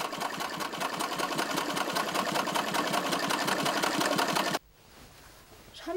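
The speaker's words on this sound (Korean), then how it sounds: "할머니는 아예 마음 놓고 재봉틀을 돌리기 시작한다." A sewing machine runs steadily stitching dress fabric with a rapid mechanical rattle for about four and a half seconds, then cuts off abruptly, leaving quiet room tone.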